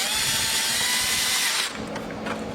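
A power tool gun whirs steadily up close while driving fasteners on the front splitter of a 2023-on Corvette C8 Z06, then winds down partway through.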